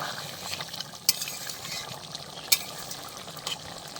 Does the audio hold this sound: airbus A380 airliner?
no